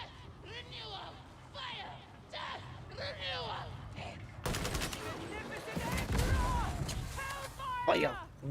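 Video game gunfire in a horror RPG: dense, rapid bursts of shots and clatter over a noisy background, with someone talking excitedly during the quieter opening and voices continuing over the firing.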